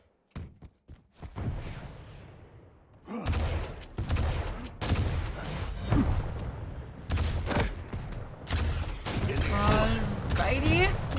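Rocket launcher fire and explosions in a Quake cup match, heard as repeated loud bursts and thuds over dense game action, with commentators talking throughout.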